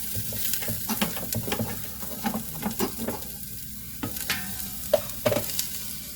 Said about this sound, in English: Because I want to get these onions started in the cooking process. Stir these around.